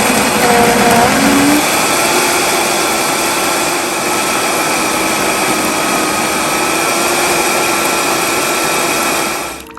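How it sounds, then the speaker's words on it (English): A blender runs continuously at full power, grinding chile de árbol, garlic and nuts into a chili oil with a loud, steady motor roar that stays constant throughout and fades only at the very end. "Okay, let me blend"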